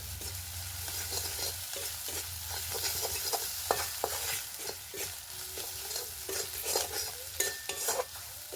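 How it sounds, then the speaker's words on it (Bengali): Spices sizzling in a hot pan with rohu fish mince and ginger, a steady close sizzle broken by repeated scraping and clinking of a spatula as the mixture is stirred. "মশলা ভাজা হয়ে গেছে।"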